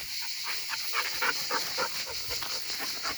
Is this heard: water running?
no